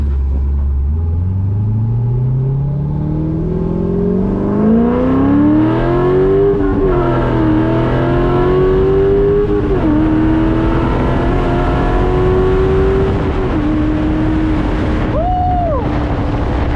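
A cammed C5 Corvette with a six-speed manual accelerates hard from inside the cabin, its loud engine climbing through several rising sweeps with brief dips at gear changes, then settling into a steady drone.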